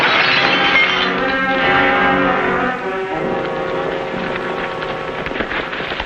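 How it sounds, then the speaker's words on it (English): A gunshot shatters a glass lamp in an old Western drama, giving a loud, sustained crash and rush of breaking glass and debris that slowly trails off. "just flying glass when he shot the lamp"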